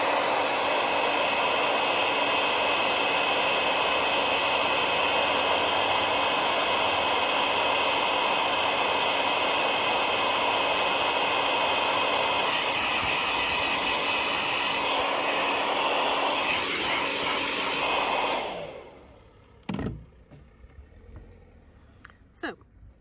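A hair dryer on high heat and top speed, powered by an AFERIY P210 2400W portable power station, blows with a loud, steady whooshing roar for about eighteen seconds, then cuts off, leaving faint handling noises.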